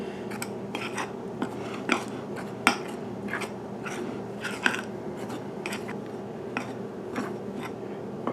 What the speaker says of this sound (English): We'll just go ahead and add that in to our pasta dough, essentially. We're just going to go ahead and mix that up.